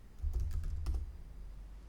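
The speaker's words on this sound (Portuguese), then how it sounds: "E aqui eu vou digitar git clone" Keystrokes on a computer keyboard while a command is entered at a terminal, a short close burst of soft clicks in the first second that then trails off, with no voice.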